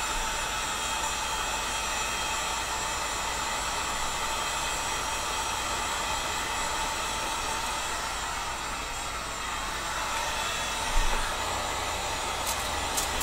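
A heat gun blows a steady, loud hot-air hiss while softening PVC pipe, holding an even roar from start to finish with a small bump near the end and no talking.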